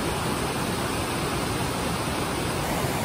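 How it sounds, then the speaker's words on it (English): A small waterfall on a Sierra mountain trail rushes in a steady, dense hiss of falling water, close and unbroken with no voices. "A little waterfall up there."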